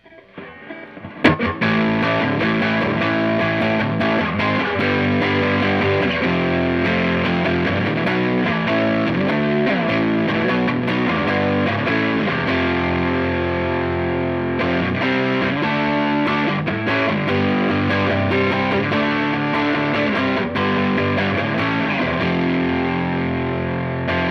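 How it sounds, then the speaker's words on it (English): Electric guitar played through an Ibanez TS9 Tube Screamer reissue with the distortion cranked fully, a loud, thick, saturated tone of chords and riffs running continuously, with slight amp hum noted at this setting. "Now if I crank up the distortion all the way, I'm noticing a little bit of hum from the amp."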